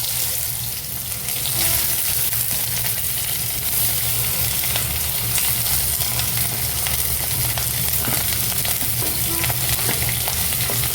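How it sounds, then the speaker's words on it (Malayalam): Chopped onions fry in hot oil with popped mustard seeds for a mutton curry, a dense steady sizzle with faint stirring clicks and no speech. "സോ കടുക് പൊട്ടിക്കഴിഞ്ഞപ്പോൾ ഞാൻ അതിലേക്ക് നമ്മുടെ അണിയൻ ഇടുകയാണ്."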